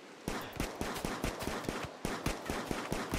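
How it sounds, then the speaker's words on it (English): Light machine gun firing at a cougar in RimWorld, a rapid, steady stream of sharp shots at an even rhythm, loud and continuous for a few seconds with no talk over it. "Light machine gun versus cougar."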